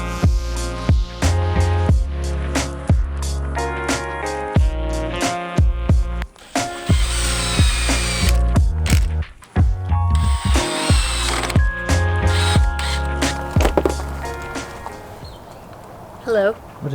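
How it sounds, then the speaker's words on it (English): A power drill bores pocket holes into a wooden face frame, with repeated short bursts of drilling and rattling clicks spread across a steady rhythm, close and loud. "I'm gonna go ahead and start drilling some pocket holes on the back of these to secure it together"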